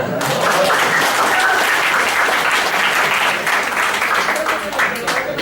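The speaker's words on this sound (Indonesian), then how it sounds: "Tepuk tangan." A talk-show audience at an entrepreneurship event breaks into loud, sustained applause, dense clapping filling the room steadily from start to finish.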